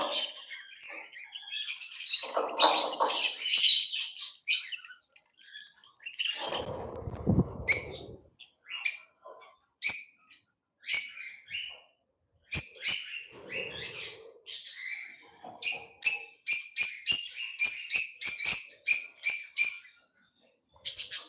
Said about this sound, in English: let you just listen to the natural sounds of the lovebirds in the